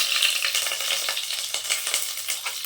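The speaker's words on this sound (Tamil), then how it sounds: "எண்ணெய் சேர்த்துக்கலாம் கடுகு உளுத்தம்பருப்பு போட்டுக்கலாம் கருவேப்பிலை சேர்த்துக்கலாம்" Mustard seeds, urad dal and curry leaves frying in oil for a mutton varuval, a close, loud, dense spitting sizzle with rapid crackling pops all through, no voices.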